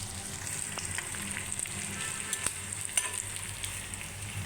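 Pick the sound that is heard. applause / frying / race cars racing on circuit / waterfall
frying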